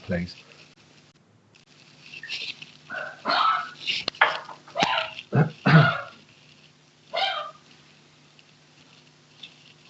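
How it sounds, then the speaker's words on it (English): Small, unwell dog barking and yapping in a cluster of short, irregular bursts in the background while someone speaks briefly. "I'm sorry if you can hear that noise in the background."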